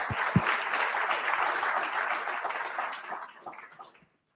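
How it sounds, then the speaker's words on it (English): Audience applause after speakers from USAA and UBS are introduced at a veteran-inclusion employer event, a dense wash of clapping from a crowd that holds steady, then thins and stops abruptly after about four seconds. "Please give them a round of applause."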